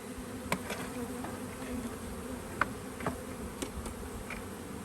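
Honey bees buzz steadily from a newly delivered package as they are installed into their new hive, with a continuous drone and brief louder spikes as individual bees pass close by.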